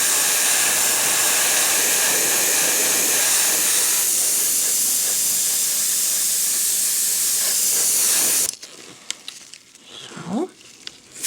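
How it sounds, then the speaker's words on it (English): Spray paint hisses from above onto a surface being weathered, a long, loud, steady aerosol blast that stops abruptly near the end, followed by quiet handling noises. "And now I will spray from above to give it"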